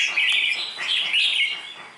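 A caged songbird in a Vietnamese bird-song contest with about 80 cages sings bright, rapid chirping phrases, loud and close, in several bursts with no talk.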